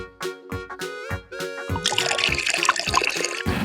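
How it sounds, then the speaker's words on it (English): Baby oil poured into an empty mason jar: a few gurgling glugs at first, then a thicker rushing pour that fills the glass steadily, close up with no voices. "go ahead and pour about 1 inch of baby oil into the mason jar"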